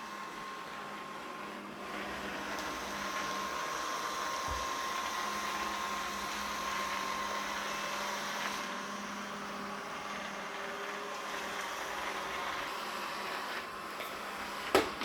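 A Deebot 950 robot vacuum cleaner runs over a doormat with a steady, close whirring hum that holds constant throughout, broken by one soft thump midway and a brief click at the end.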